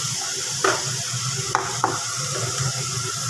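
Onion, carrot and beans frying in oil for vegetable pasta, a steady close sizzle with a few sharp stirring clinks and scrapes, no voices.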